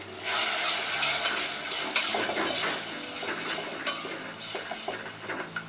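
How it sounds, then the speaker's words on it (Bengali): Drumsticks being stir-fried with cumin, salt and spices in a pan for a mustard seed curry, giving continuous scraping, clinking and sizzling from a spatula working against the pan, fairly close and with no talk. "দিয়ে আমি এগুলো এখন ভালো করে কষিয়ে নিব"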